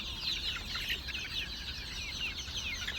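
Native country chickens feeding on a farm, with a flock clucking and chirping continuously at close range over a low, steady background rumble, and no talking.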